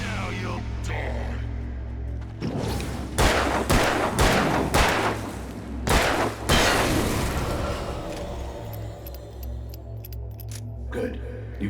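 Heavy gunshots in Alan Wake ring out in a run of about five loud, evenly spaced blasts in the middle, each with a short booming tail, while a voice talks before and after.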